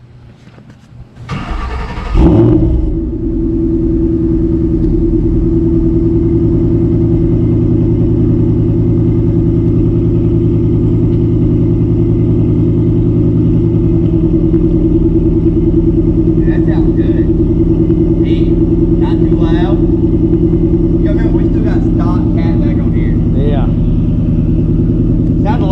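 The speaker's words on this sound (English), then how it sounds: "we're gonna fire this thing up and get a cold start" A 2012 Ford Mustang Shelby GT500 with long-tube headers and stock catback cold-starts, cranking and catching, then settles into a loud, steady idle with a deep rumble, with a few light mechanical clicks near the end.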